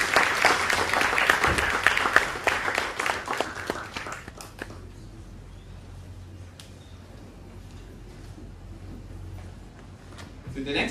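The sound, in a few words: audience applause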